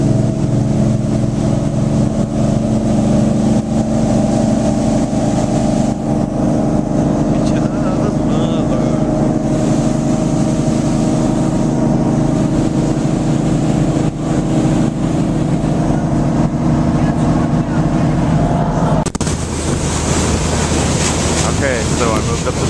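A motorboat's engine drones loudly and steadily at close range as the boat gathers speed, with wind rushing past and water noise underneath; the engine tone shifts near the end.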